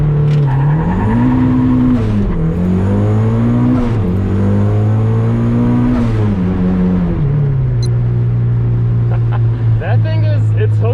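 A turbocharged Mazda Miata launches hard and pulls through the gears, its engine note climbing, dropping at shifts and climbing again, loud and close throughout, with some speech at low level.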